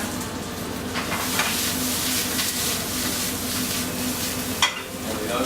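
Steaks frying in a hot pan in a pub kitchen give a loud, steady sizzle with crackling spits throughout, with no talk over it.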